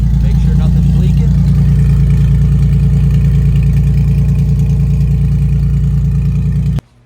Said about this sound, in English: it does run. The Junkyard engine's alive.